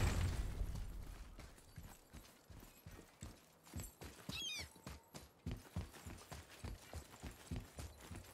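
Horse hooves clip-clop in a video game, a steady rhythmic run of hoofbeats with a brief whinny partway through, moderately loud over a faint game background.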